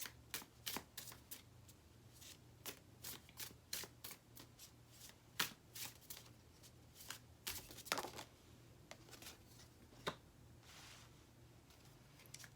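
Tarot cards are shuffled by hand at close range, quiet repeated riffling flicks and taps in an irregular rhythm with no voice.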